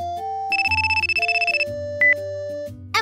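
A telephone rings while a call to mother is being placed, heard as a close electronic ringtone in a short melodic pattern with a trilling burst, then a brief higher chirp.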